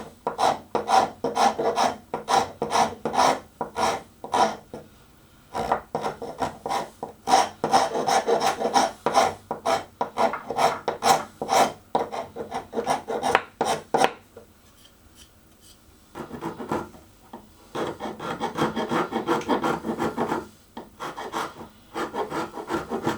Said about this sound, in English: With the leg dismantled, I used a small scraper to remove all the remnants of the glue.